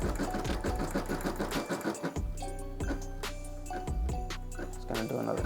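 An embroidery machine stitches a gun-themed design in fast, loud mechanical bursts of rapid needle strikes, pausing and restarting with whirring shifts, close by and with no speech.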